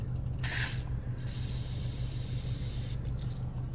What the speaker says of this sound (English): silicone spray right there on this